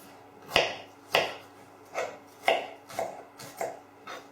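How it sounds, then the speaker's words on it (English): Seven crisp knife chops through carrot on a cutting board, spaced about half a second apart in a steady rhythm, with a kitchen knife slicing strips for coleslaw. "So I'm just cutting it down, cut each one into 3 like that, and then down again."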